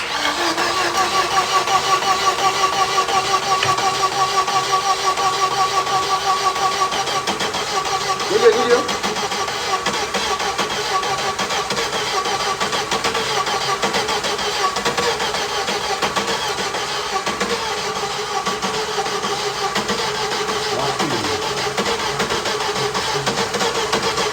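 A 1985 Ford Fiesta engine cranking and catching, then settling into a steady mid-pitched idle that runs for many seconds, with people talking nearby over the running engine.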